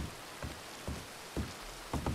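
Rain falling, a soft steady patter with a few louder splashes or thumps at regular intervals, faint and close.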